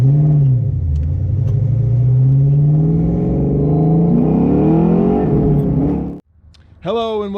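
A Ford Mustang Fox Body makes a pull, its engine rumbling loud and close as the revs climb steadily for about six seconds before cutting off. A brief rising whine follows.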